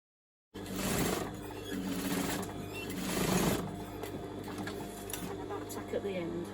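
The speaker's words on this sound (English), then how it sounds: "I'm going to stitch just under the buttonhole there" A sewing machine runs in a steady, continuous whir while stitching just below a buttonhole on a handmade gift, close and fairly loud, briefly surging in speed partway through.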